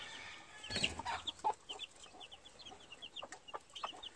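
Young gamefowl chicks peep in quick, high bursts while a hen clucks close by in a pen.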